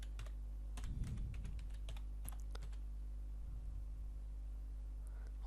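Keystrokes clatter on a computer keyboard while text is typed into an editing program, a burst of quick clicks near the start and scattered taps afterward, close and fairly quiet over a steady low hum.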